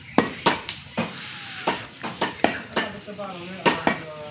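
An elderly butcher chops beef with a cleaver on a wooden block, making sharp, irregular, close thuds and knocks roughly twice a second, with faint voices in the background.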